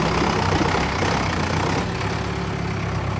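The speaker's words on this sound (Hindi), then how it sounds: "लो भाई चल दिया ट्रैक्टर" A tractor engine runs steadily on a farm, a loud continuous rumble with a rough, dense low-end texture and no break, heard up close with no voices.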